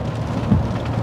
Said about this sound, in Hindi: बारिश हो रही है तो मुझे अपना वाइपर चलाना पड़ रहा है।